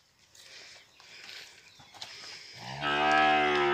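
Cattle in a farm corral on a morning milking round: rustling and faint movement first, then one loud, close, drawn-out moo carrying to the end.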